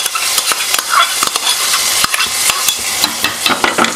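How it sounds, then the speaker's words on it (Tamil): Tempering poured into a pot of finished curry sizzles and crackles steadily at close range, with a few sharp spoon or pan knocks breaking through the hiss. "தாளிப்பு லாஸ்ட்டாக கொட்டுறோம்."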